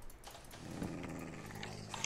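A tamed wolf dog in the Minecraft video game growls low and steadily for a couple of seconds, a rough continuous rumble with a slight swell midway, heard fairly close with no talk over it.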